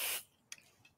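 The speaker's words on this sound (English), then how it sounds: "give it a little spray" A spray bottle mists fabric while a Cuddle teddy bear is being sewn: one sharp, close hissing burst, then a few faint clicks and rustles.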